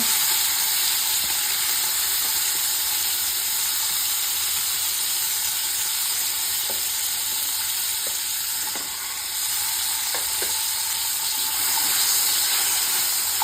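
Potatoes fry in oil alongside falli fish in a pan, with a loud, continuous sizzle and occasional faint clicks from stirring.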